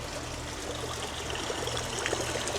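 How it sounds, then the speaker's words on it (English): Water runs steadily through a backyard water feature, a continuous trickling and splashing flow, close and even, with no one talking. "the sound of running water. So relaxing and beautiful."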